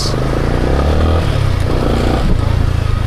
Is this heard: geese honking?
no